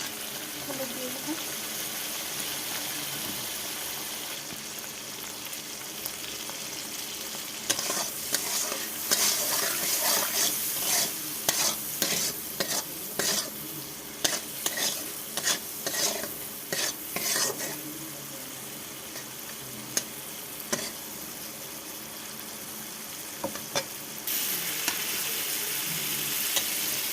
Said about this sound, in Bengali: কড়াইতে আমি তেল দিয়ে দিয়েছি। তো এখন চিংড়ি মাছগুলো ভেজে নেবো